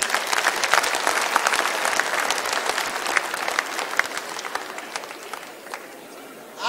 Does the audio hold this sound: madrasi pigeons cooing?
no